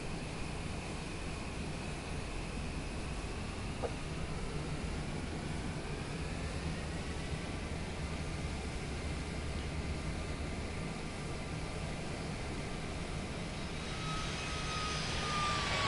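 Aircraft engine idling as a plane taxis in Microsoft Flight Simulator 2024, a steady whooshing engine drone with a faint whine that rises toward the end, continuous and without voices.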